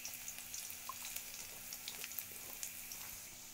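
Cumin, garlic and mustard seeds sizzle and crackle steadily in hot oil in a pan, a dense close hiss with scattered pops, no voices.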